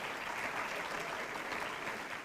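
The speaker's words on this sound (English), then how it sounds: "please a big special round of applause for the Liverpool Catholic Club" Steady applause from an audience at the Liverpool Catholic Club, a dense even wash of clapping hands that holds at the same level throughout with no voices over it.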